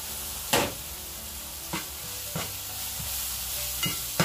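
Moussaka filling with fresh herbs is stirred in a pan over a steady sizzle, a few distinct spoon scrapes and knocks against the pan rising above the continuous frying hiss.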